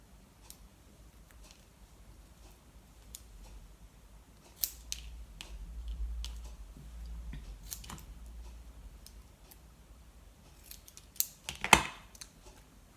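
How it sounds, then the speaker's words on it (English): Scissors snip a few times in a quiet room, with sharp metallic cuts spaced apart and a quick cluster near the end. "just going to get a pair of scissors."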